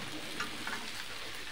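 Turmeric is stirred into a frying kadai for a Bengali cabbage curry, producing a faint, even sizzle with two brief scrapes from the spatula.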